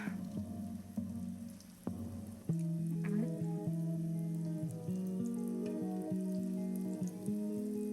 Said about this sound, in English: You can hear our skillet already ready to go, baby. And she is popping.